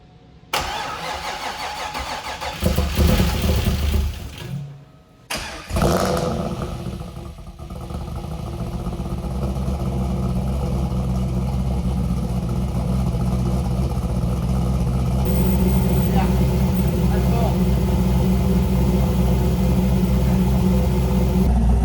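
A supercharged Corvette Z06 with an LS3 V8 swapped in place of its LS6 cranks, catches, stumbles briefly, then settles into a loud, steady, rumbling idle close by, with no voices.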